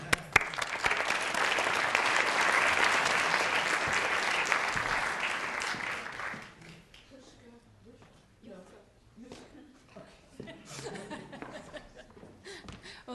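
Lecture audience applauds a visiting artist at MICA with a dense, steady wash of clapping that swells and then fades after several seconds. Scattered chuckles follow, and the speaker begins talking as the clapping dies away.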